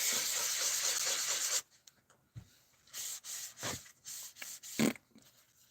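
Wood being sanded by hand: a steady, dense rasping scrape for about a second and a half, then a stretch of short, separate strokes and rubs with quiet gaps between them.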